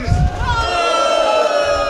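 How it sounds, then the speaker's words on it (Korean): An outdoor political rally crowd at a Jinju market roars with applause and shouting, a loud dense wash of cheering voices throughout. "큰 박수 부탁드리겠습니다."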